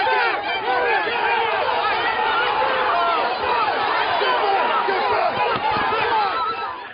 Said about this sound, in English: There's a large peaceful protest taking place here.